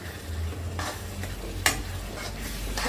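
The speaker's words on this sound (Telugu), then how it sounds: "అది నేను దీంట్లో ఈ మసాలాల్లో చేసే టమాటోస్ దాంట్లో ఆ మసాలా కూడా వేసి బాగా ఫ్రై చేస్తున్నాను" Tomatoes and masala frying in a pan for fish biryani, a steady close sizzle with a few scraping stirs of a spoon, no voices.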